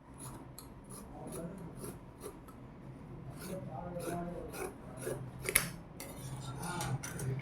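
Scissors cut through the fabric of a ready-made skirt to shorten it. The snipping and rasping strokes are quiet, close and repeated, with faint rubbing and handling noises between them.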